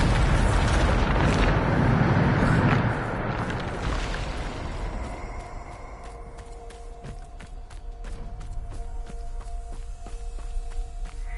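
A Bombarda blasting spell detonates in the Hogwarts Legacy video game, a loud rumbling explosion that fades into debris and clattering, followed by lighter crackles and thuds.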